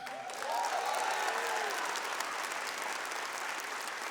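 Church audience breaking into applause, a broad sustained wash of clapping that starts suddenly and holds steady, with a faint tonal sound under the start.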